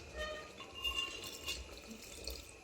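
Water poured into a pot of boiled dal during home cooking, a soft continuous splashing and trickle at close range with gentle swells in loudness, no voices over it.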